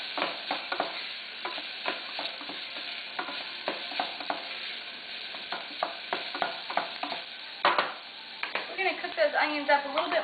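Softening onions sizzle in a pan for yuca soup while a utensil stirs and scrapes them in steady rhythmic strokes, close and fairly loud, with a voice briefly heard near the end.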